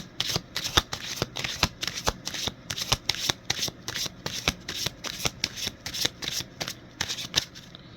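Tarot cards shuffled steadily at close range, a quick run of crisp riffling flutters repeating in a regular rhythm throughout, with no voices.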